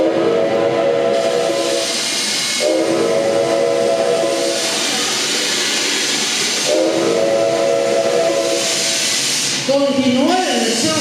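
A steam locomotive on the rail journey from Bombay to Calcutta, its whistle sounding in long repeated blasts over a constant loud hiss of steam, with a shorter warbling whistle at the end.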